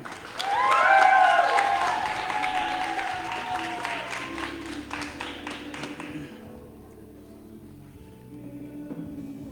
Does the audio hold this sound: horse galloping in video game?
no